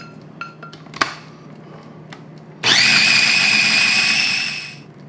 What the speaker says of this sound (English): we're back to the little mini blender. Now that goes in there, and we puree the corn